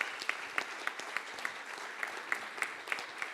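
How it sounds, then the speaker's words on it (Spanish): An audience at an anniversary forum claps in a steady, rhythmic beat, with sharp, evenly spaced claps about three per second and a softer patter of other hands beneath them. "Aplauso, aplauso."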